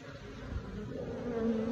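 A soft, steady buzzing of honeybees drones close by at an apiary, with a faint rising hum toward the end and no talking.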